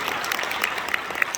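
An audience at a church mission gathering claps briefly, a short burst of scattered applause from a room of listeners.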